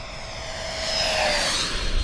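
A Banana Hobby Viper Jet, a 75mm electric ducted-fan RC jet on 6S power, makes a full-throttle pass: a steady rushing whine swells as it nears and peaks midway, heard outdoors with no talk.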